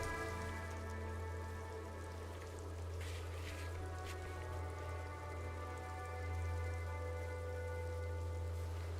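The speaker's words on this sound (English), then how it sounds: "All around you, rain falls on the great city." Steady rain falls over a great city in the video game Disco Elysium, a continuous even hiss of drops on surfaces with a low constant hum beneath, no voices.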